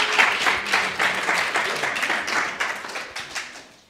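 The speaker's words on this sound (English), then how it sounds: "give him a round of applause" Audience applause at a Halifax City Soccer summer launch, welcoming a speaker: a crowd of hands clapping fairly briskly, strongest at the start and gradually thinning and fading toward the end.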